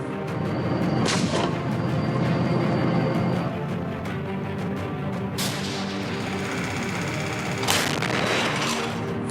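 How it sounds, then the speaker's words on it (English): Battle gunfire and explosions roar as sound effects, a dense rumbling barrage punctuated by several sharp, loud blasts spread across the stretch, with no voices. "the night erupted in a blaze of gunfire and explosions"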